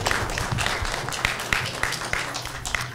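Applause from a seated audience at the 2019 WSFS business meeting, a steady close wash of many hands clapping for the full few seconds with no talking over it.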